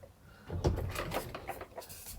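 Wooden drawers in a campervan mini kitchen being pulled open and pushed shut, a few close knocking and sliding bumps over roughly two seconds with faint background noise.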